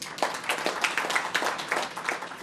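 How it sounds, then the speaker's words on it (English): Audience at the opening of a high court applauding, a thin spread of individual claps at an uneven rhythm, moderately distant and steady for a couple of seconds, without talk. "A round of applause, please."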